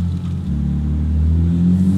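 A Holley-equipped American big block V8 of about 550 horsepower revs loudly with a deep exhaust rumble, holding a steady, heavy drone for two seconds with no talk.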